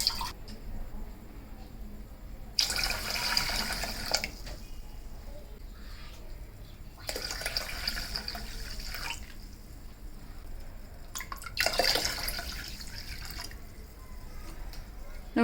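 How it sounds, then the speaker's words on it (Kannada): Water is poured from a glass into rice for a traditional Malnad mustard porridge in three separate splashing pours, with quiet pauses between them. "ಇದೇ ಗ್ಲಾಸಲ್ಲಿ ನಾನು 4 ಲೋಟ ನೀರು ಹಾಕ್ತಾ ಇದ್ದೀನಿ"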